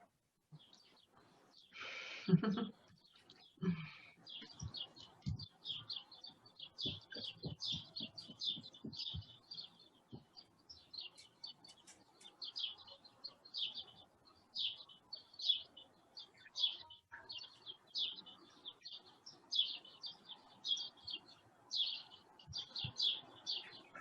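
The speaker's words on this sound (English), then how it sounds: "I can hear the birds." Small birds chirp and tweet continuously in quick, repeated bursts, moderately distant, with a few louder calls early on.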